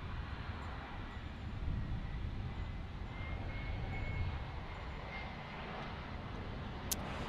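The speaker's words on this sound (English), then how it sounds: "Man, it's so cool having a 757 here." Boeing 757 airliner at Dallas/Fort Worth airport, a steady broadband engine roar rumbling continuously throughout, moderately distant with slight swells in loudness.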